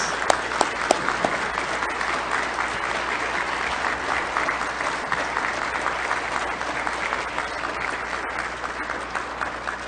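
Audience applause fills the Senate chamber during a confirmation session, a steady, even roar of many hands clapping with a few louder individual claps early on.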